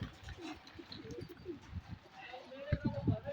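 Low, soft cooing of breeder pigeons, repeated throaty coos close by at modest volume, mixed with some chirping while rain has started falling.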